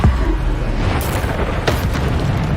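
Booming Bombarda explosion spells go off in Hogwarts Legacy, a loud low rumble with a couple of sharp bursts cracking through near the middle.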